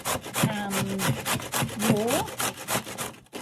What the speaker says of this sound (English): So we're grating the beetroot